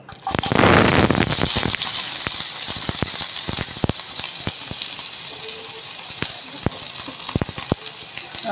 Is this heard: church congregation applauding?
no